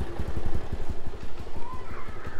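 A scooter runs through the streets of Sihanoukville, Cambodia, its small engine putting out a rapid pulsing putter that rises and falls, with a faint tone climbing near the end.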